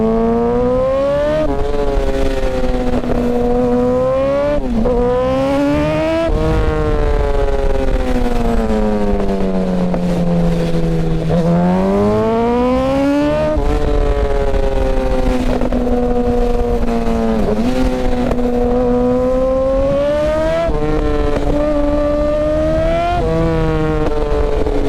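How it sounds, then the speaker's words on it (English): A Yamaha R1 motorcycle running E85 with a tuned exhaust revs loud and close, its engine note rising and falling in repeated sweeps through the rev range, with no talking. "Exhaust is good."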